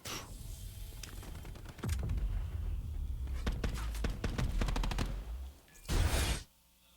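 SOG gunfire in a Call of Duty pro league match rattles in fast bursts of sharp shots, with light voices under the game sound.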